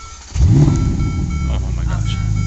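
A Ferrari Roma's engine catches at close range with a sudden loud rise into a rumbling exhaust roar that settles into a steady deep idle, with people talking over it.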